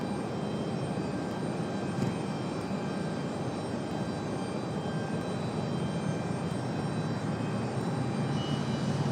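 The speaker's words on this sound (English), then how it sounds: "Lufthansa, that A330, finally making their push" Lufthansa Airbus A330 pushing back at Raleigh-Durham airport, a constant whining jet engine drone with a steady roar beneath it, holding at a moderate distance, with no voices.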